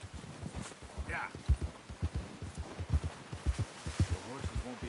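Horse hooves in Red Dead Redemption 2 clop at a steady walking pace, soft and fairly quiet, with a faint voice murmuring briefly early on.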